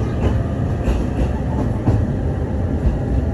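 A Mito Line train runs along the track with a continuous rumbling roar and faint rhythmic clicks, steady and fairly loud, heard from on board with no voices.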